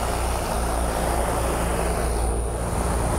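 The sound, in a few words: fans blowing sand over a running race engine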